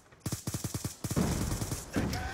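An AN-94 rifle fires in Black Ops 2, a rapid burst of about eight evenly spaced close shots, followed by a louder, denser rush of gunfire and explosions in the game.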